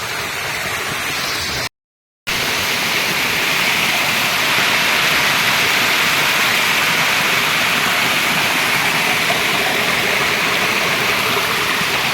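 A small stream used as a water source rushes steadily and loudly up close, with a dense, unbroken roar apart from one brief cut-out near the start.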